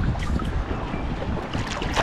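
Sea waves at a beach on Siquijor Island, a continuous wash of surf and rushing water with gusty wind noise buffeting the microphone, close and fairly loud, with no voices.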